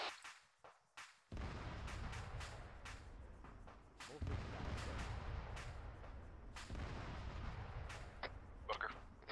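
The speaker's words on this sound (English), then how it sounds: "I'm hearing IDF fire as well." In a military video game, indirect artillery fire lands in a series of sharp, distant booms and cracks over a constant rumbling background.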